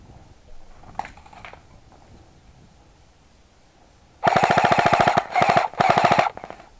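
Airsoft pistols firing in a close-quarters skirmish: a faint early pop or two, then loud rapid bursts of repeated shots in three clusters, crisp and near, with no talk over them.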